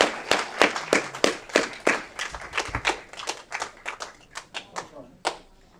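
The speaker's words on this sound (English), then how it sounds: "Round of applause again for this important month." Applause from a small group at a city council meeting, a steady patter of clapping hands that thins out into a few last claps toward the end.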